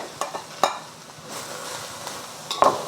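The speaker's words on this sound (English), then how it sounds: "Stir fry this for about 30 seconds, just until you start to smell the garlic." Garlic frying in a stir-fry pan for a Cantonese pork belly dish: a faint steady sizzle broken by a few sharp clicks and scrapes of the utensil against the pan.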